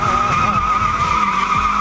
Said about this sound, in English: Great for drifting. We'll be doing donuts, dragging the wall.